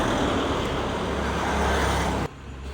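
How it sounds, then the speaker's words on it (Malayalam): Tata 1212 truck engine at Marine Drive, Kochi, a loud, steady close rumble with broad road noise that cuts abruptly near the end to a quieter hum. "ടാറ്റയുടെ പന്ത്രണ്ട് പന്ത്രണ്ട്"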